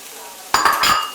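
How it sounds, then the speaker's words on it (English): Onion, garlic, celery and carrot hit a hot pan with a sudden loud burst of sizzling and a few clattering scrapes of utensil against pan, close up after a quiet start. "now we're just going to cook that for a couple of minutes, just to get the onion a little translucent"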